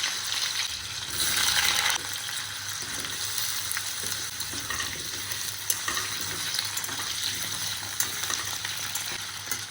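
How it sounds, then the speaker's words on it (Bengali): Sliced potatoes sizzle steadily in a hot pan, cooked for a potato and fish curry in a home kitchen. The bright frying hiss stays close and continuous, briefly louder near the start, with no voices. "এখানে আলু ভাজা চলছে"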